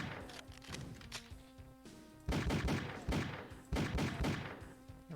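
Rapid bursts of gunfire from the video game Doom, several loud volleys in quick succession with a tonal game hum underneath and no talking.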